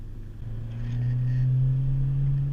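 Modified 2018 Honda Civic Si with a turbo, accelerating on a canyon road: a steady low engine hum swells and grows louder as revs build, heard alone and close from inside the car.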